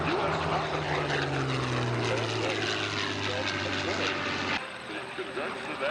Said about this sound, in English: our P-40 as it goes by is being flown by U.S. officers